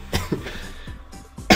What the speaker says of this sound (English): I'm kind of sick, sorry for the coughing.